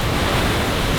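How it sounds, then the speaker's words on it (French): Ocean waves roll steadily onto the coast of Réunion Island between Saint-Joseph and Saint-Philippe, a continuous broad rushing wash of surf, fairly close and unbroken by any voice. "C'est juste magnifique, ce bruit de vagues, cette chaleur."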